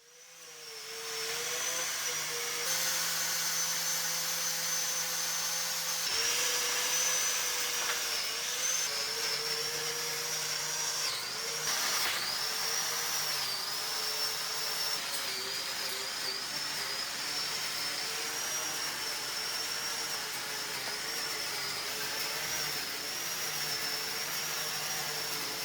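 An angle grinder whines continuously while cleaning out mortar joints in an old stone wall, a loud sustained high-pitched motor drone that dips and rises slightly in pitch as it bites into the joints, close and steady for the whole stretch.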